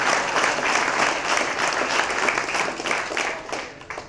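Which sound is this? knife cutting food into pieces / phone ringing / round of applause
round of applause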